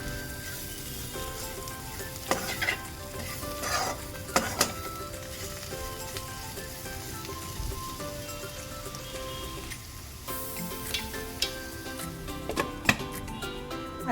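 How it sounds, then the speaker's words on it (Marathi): Kartule (spiny gourd) vegetable frying in a pan while being stirred, a steady close sizzle with scattered scraping clicks of the spoon against the pan. "आता ह्याला छान मिक्स करून घेऊया"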